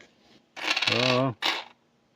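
Canadian five-cent coins, including 1945 and 1952 wartime nickels, from a coin roll clatter down onto a surface in a short ringing burst, followed by a brief second metallic clink, close and with no talking.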